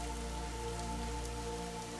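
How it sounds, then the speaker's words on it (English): Steady rain falls in a forest, a soft, even patter that holds on its own at low volume for the whole stretch, with no voices. "watching as the first drops of rain began to fall"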